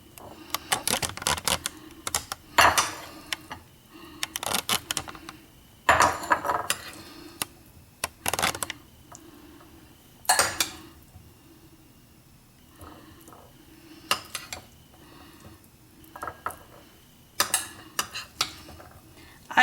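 Spoon and utensils scrape and clatter against a bowl as potato salad with celery and red pepper is scooped and transferred, in irregular bursts of close clinking and scraping with quiet pauses.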